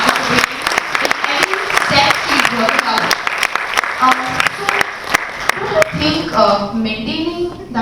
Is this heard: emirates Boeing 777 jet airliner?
no